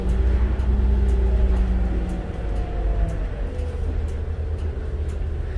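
Ride aboard a 2007 New Flyer D40LF diesel city bus on the 12 Southwest Loop, with a steady loud engine drone and rumble and the whine rising and falling through gear changes, heard from inside the cabin with no talking.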